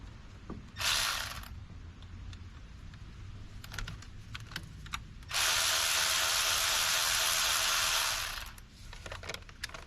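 Ratchet wrench working a bolt off a Dodge Sprinter engine, two bursts of rapid clicking, a short one early and a long sustained run later, close by with light tool handling between.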